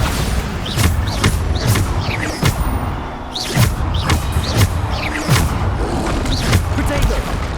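Repeated Bombarda blast spells in Hogwarts Legacy, a steady string of booming impacts and thuds every half second or so amid combat noise, with a voice calling out over them.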